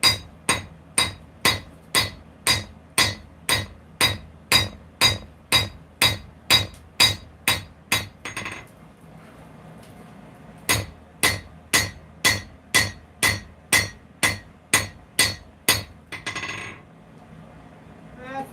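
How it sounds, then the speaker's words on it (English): A hammer strikes a knife blade during forging, a steady rhythm of about seventeen sharp metallic taps, then a pause, then another run of about a dozen ringing blows, close and loud with almost no talk. "Let's just give this a couple of taps here and there."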